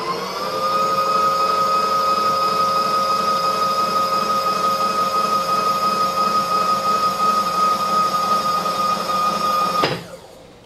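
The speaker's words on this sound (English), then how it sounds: "I'm going to use the auto feed here, save a little bit of cranking" Milling machine table traveling under power auto feed with a vise mounted: a loud, steady motor whine and hum lasting about ten seconds, then stopping abruptly with a clunk. No talking.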